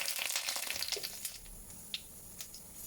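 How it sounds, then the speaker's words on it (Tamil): Mustard seeds, curry leaves and dried chillies crackle and sizzle in hot coconut oil for a Tamil pumpkin stir fry, a steady close frying hiss with brief sharp pops scattered throughout. "இதுக்கு வந்து கொஞ்சம் கடுகு கொடுத்துக்குவோம். கருவேப்பிலை, காஞ்ச மிளகாய்,"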